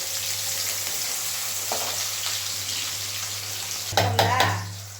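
Onions fry in a pan for street-style sundal, a constant close sizzle over a low hum, then a burst of louder crackling and clattering as the pan is stirred near the end, with no speech.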